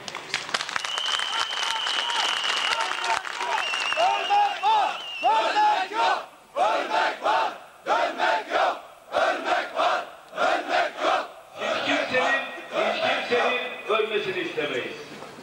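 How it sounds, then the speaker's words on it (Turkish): Protest crowd of workers at an outdoor demonstration in Ankara applauding and then chanting slogans in loud rhythmic bursts with short pauses between them, many voices shouting together. "biz de sizi alkışlayalım."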